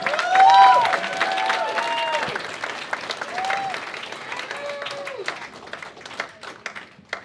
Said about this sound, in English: I want you guys to clap the hands for the amazing and talented Monna, everybody.